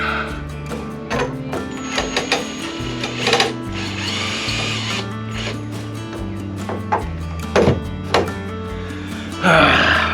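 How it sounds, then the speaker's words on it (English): A power drill whirs in short bursts drilling holes in a boat, its motor winding up and down with brief pauses between runs, close by. "I don't like drilling holes in the boat."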